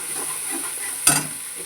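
Cumin, green chilli and garlic paste fry in oil for a tilapia curry, a soft steady hiss broken by one brief louder sizzling burst as the paste goes in.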